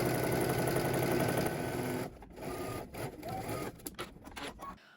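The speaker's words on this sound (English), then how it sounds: "We're going to stitch both side seams using 5/8 of an inch seam allowance." A sewing machine whirs steadily for two seconds, then runs in short, stop-start bursts of stitching with brief pauses between.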